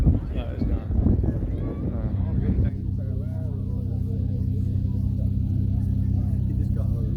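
A car engine rumbles loudly and steadily at an outdoor car show. Excited voices talk over it for the first few seconds, then the deep engine drone carries on alone, close and sustained.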